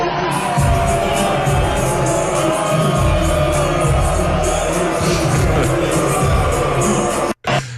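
A crowd in a bar, heard inside a played commercial, reacts with loud, continuous cheering and shouting mixed with music. The dense noise runs nearly the whole time and cuts out abruptly near the end.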